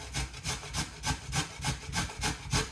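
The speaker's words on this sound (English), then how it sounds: "I'm basically just gonna grate the whole potato." A whole potato rubbed down a cheap grater, giving steady, rhythmic rasping strokes, about eight of them in a row. The scraping is close and fairly loud, with no voices.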